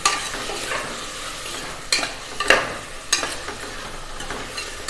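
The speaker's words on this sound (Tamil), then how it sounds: "நான் 5 தக்காளி சேர்த்து கட் பண்ணியிருக்கேன். இப்போ இதை நல்லா வதக்கி விட்டுடலாம்." Five chopped tomatoes are sautéed in a pan for Tamil-style paruppu sadam, with a soft continuous sizzle and several sharp scrapes of a spoon stirring against the pan, up close and without any talk.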